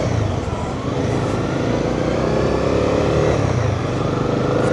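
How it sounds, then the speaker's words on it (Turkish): Exhaust of a Honda CB250R motorcycle riding in traffic: a loud, continuous engine drone with steady rumble and wind roar throughout, with no clear breaks. "korkutmanın ötesinde de egzozun maşallahmış."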